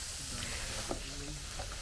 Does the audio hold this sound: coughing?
no